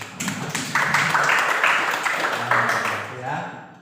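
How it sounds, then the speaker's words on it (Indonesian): Applause in a classroom breaks out, a dense crowd of clapping hands at moderate distance that swells and then fades after a few seconds, mixed with voices speaking over it. "Tepuk tangan untuk semua."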